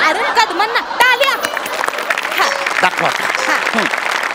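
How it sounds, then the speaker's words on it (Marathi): Audience applause for Kadam at a Marathi comedy show, a short burst of clapping mixed with crowd chatter and light laughter beneath speaking voices. "अरे कदमांना टाळ्या"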